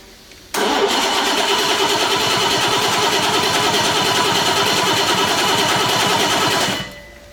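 A car engine, parked unused for years, catches abruptly on ignition and runs loud and steady at a fast, rough idle for about six seconds before cutting off, heard alone and up close.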